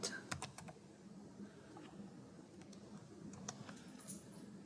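Fingers tap out a quick, irregular run of clicks on a computer keyboard, close and fairly quiet, with no talking.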